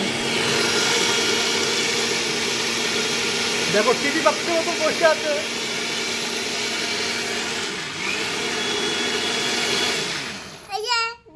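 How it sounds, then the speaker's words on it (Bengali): An electric mixer grinder runs steadily, grinding soaked rice into flour for making pita, a loud continuous whirring drone that stops near the end, with a voice speaking over it. "আমাদের বাড়ি ঢেকি নেই, তাই দেখো আমরা মিক্সার মেশিনে গুঁড়ো করছি। দেখো চালের গুঁড়ো করা হচ্ছে,"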